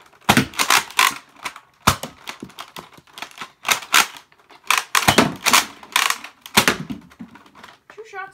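A Nerf TS blaster fires darts and is worked by hand, giving sharp, loud mechanical clacks and snaps in irregular bursts, close by, across the whole stretch.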